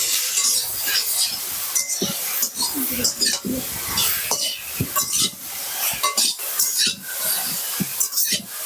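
Loti being mixed with turmeric and salt in a pan, light metallic clinks and scraping of a spoon against the pan in irregular bursts, close and clear, with no voice heard.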